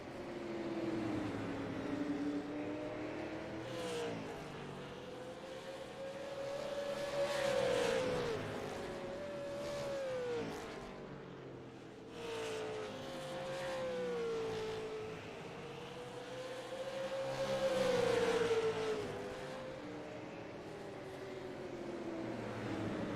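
Race cars circle a dirt oval at a Crooked Line Racing event, engines droning and rising in pitch as they pass close by, repeated waves of revving and fading over 23 seconds with no talking.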